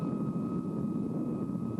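An Avro C-102 Jetliner, the first jet transport on the North American continent, taxis out to the runway, giving a steady, even jet rumble with a faint tonal whine on top. It carries on without a break and no one speaks.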